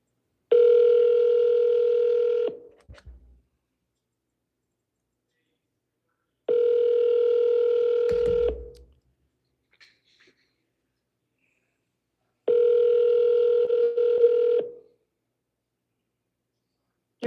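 A phone call ringing out: three long steady ringback tones spaced about six seconds apart, each lasting a little over two seconds with silence between, and a faint click or thump after the second.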